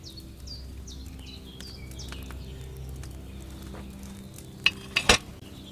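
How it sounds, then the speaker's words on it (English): Wine boils in a cauldron over a flame in the video game Kingdom Come: Deliverance 2, a soft steady bubbling hiss with bird chirps overhead and a few sharp metallic clinks near the end. "Hear that bubbling? It's boiling."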